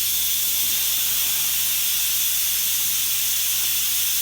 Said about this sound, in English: All the steam and the pressure inside of the Instant Pot is rushing out.